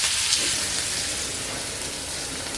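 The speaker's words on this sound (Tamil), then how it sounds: "மசாலாலாம் சேர்த்து நல்லா எண்ணெயிலே வறுத்துக்கலாம்" Spices and fresh curry leaves frying in hot oil in a home kitchen, a steady broad sizzle that holds at an even level throughout with no talking.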